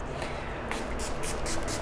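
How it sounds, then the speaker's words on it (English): Milani Make It Last setting spray misted during a drugstore soft glam makeup routine, heard as a few short, close hissy bursts in the second half over a low background rumble. "Spray with Milani Make It Last Setting Spray"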